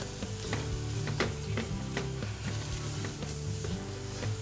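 Sweet potato and chocolate mixture being stirred in a pan for vegan Christmas truffles: steady sizzling with repeated soft scraping strokes of the spoon at an even rhythm, close and alone.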